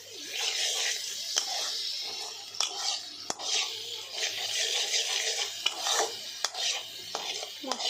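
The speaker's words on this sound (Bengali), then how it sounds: "এবার এই মশলাটাকে আমি ভালো করে ভাজতে" A spice paste for a chicken and potato curry is fried and stirred in a pan, giving repeated scraping and rasping strokes of a utensil against metal, close and moderately quiet.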